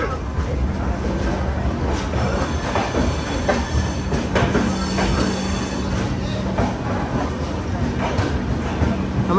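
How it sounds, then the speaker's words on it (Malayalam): Express train pulling into Madgaon Junction station on platform 1, its wheels and carriages rumbling steadily with faint squeals and clatter throughout, a voice talking now and then over the noise. "മഡ്ഗാവ് ജംഗ്ഷൻ റെയിൽവേ സ്റ്റേഷനിലേക്ക് ഇതാ വണ്ടി എത്തിക്കൊണ്ടിരിക്കുകയാണ്."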